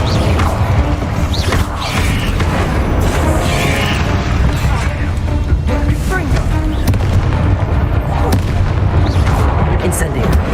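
Incendio fire spell cast over and over in the video game Hogwarts Legacy, loud bursting, booming impacts packed in a rapid, continuous barrage with a voice speaking over the noise.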